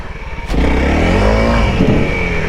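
Honda CRF300L dirt bike on Pirelli tires revving hard while spinning its rear wheel in gravel, a loud close engine roar that jumps up sharply after a brief idle and climbs in pitch.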